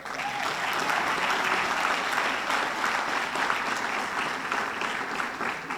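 Sustained audience applause at a police department awards ceremony for Police Supervisor of the Year nominees, a steady wash of many hands clapping, fairly loud and even from start to finish.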